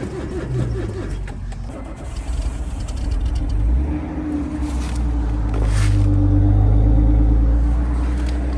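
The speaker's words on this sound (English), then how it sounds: "feels good to attempt to start a car and it just start" A Japanese-market car's engine cranks and catches after starting trouble, settling into a steady low idle rumble that swells slightly louder toward the end, close by with no talk.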